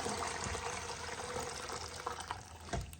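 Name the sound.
pouring hot chicken broth through strainer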